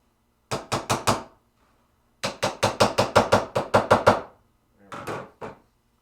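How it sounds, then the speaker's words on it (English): A part on a pinball machine is hammered down during a playfield swap. Loud, sharp blows land in three bursts, four strikes, then about eleven in quick rhythm, then a few more, with no talking. "I'm going to hammer this down."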